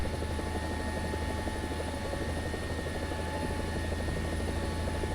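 A Mi-24 Hind attack helicopter in War Thunder sets down, its rotor and turbine engines producing a steady, loud, droning thrum with a constant whine, uninterrupted and without speech.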